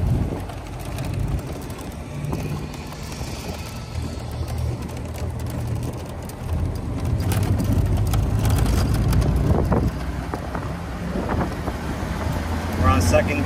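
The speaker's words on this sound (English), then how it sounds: "We're on second gear. Now on third gear, switching to fourth." A 1980 Ford Shay driving on the road, its engine rumbling steadily with rising revs and wind noise as it moves up through the gears, and a person talking over it.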